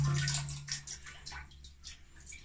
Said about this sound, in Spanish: destapar nuestro vinagre blanco y lo vamos a vaciar en el baño junto con la coca